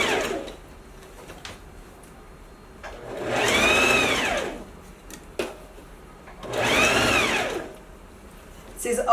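A sewing machine stitches the lining fabric of a lined coat in two bursts of steady whirring, each lasting about two seconds. Quieter gaps with handling clicks separate them, and the machine is heard close up.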